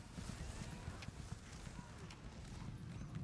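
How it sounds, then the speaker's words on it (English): Horse hooves clip-clop in a steady rhythm while riding out of town in a fantasy video game, close and moderately loud, with faint game ambience underneath. "we'll jump on the horse and head out of town"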